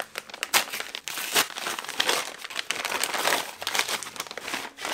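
A paper envelope from a publisher is torn and opened up close, giving loud, busy crinkling and crackling paper rustles with sharp snaps throughout, no talking.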